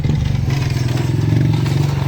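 A motorcycle rides past on a rural farm road, its steady mid-pitched engine drone loud and close for a couple of seconds with no voices.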